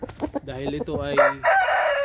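An aseel rooster gives a close, loud crow with a rising, strained cry at the end. Someone speaks briefly at the start.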